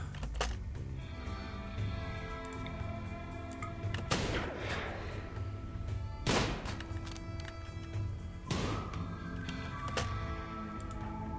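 Gunfire from the RimWorld Royalty expansion video game: three sharp, loud shots spaced a couple of seconds apart, at about 4, 6.3 and 8.5 seconds, over a steady bed of game music.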